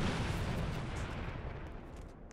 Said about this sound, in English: Oh, legendary grenade launcher.